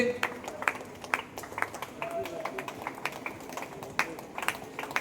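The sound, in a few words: crowd clapping as the match ball enters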